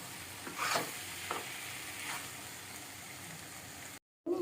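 Coriander powder and chili stirred in a curry pan make a quiet, low sizzle with a few soft scrapes of the spoon near the start, then a brief silent gap before the sizzle resumes.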